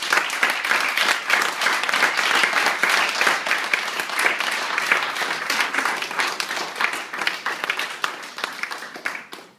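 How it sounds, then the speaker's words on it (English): Sustained, dense clapping from a wedding reception crowd fills the room after a best man's toast, loud and steady throughout before tapering slightly at the end. "I think it deserves a round of applause"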